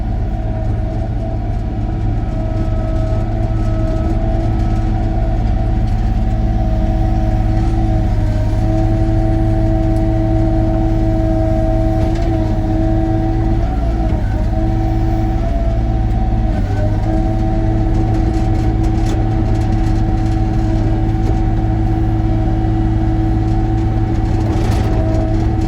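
Excavator crawling down and turning on a steep bank of about 45 degrees, a loud steady diesel rumble with a constant droning hum and occasional track clanks, close.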